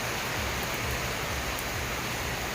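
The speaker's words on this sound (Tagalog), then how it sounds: "Sounds from ulan." Steady afternoon rain in a provincial setting, with a little wind: an even, continuous hiss of falling rain with low rumbling gusts underneath, moderately faint and unbroken, with no voices.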